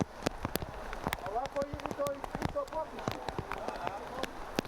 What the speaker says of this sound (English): Just a sense of how the rain is gradually picking up here.